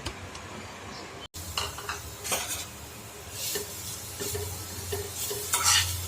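Grated coconut fries in ghee in a pan while a spoon stirs it, giving steady sizzling broken by repeated scraping strokes against the pan, close and moderately loud, with a brief dropout near the start.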